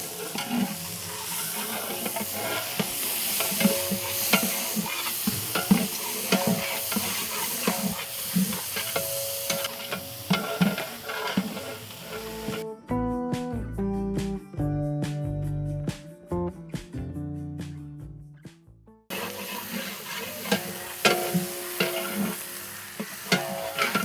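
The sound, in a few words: frying and stirring onions in oil for mutton gravy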